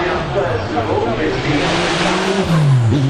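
A supercar with a 6-litre naturally aspirated engine accelerates loudly at the Festival of Speed, its engine note climbing steadily in pitch and then dropping sharply on a gear change, with people talking throughout.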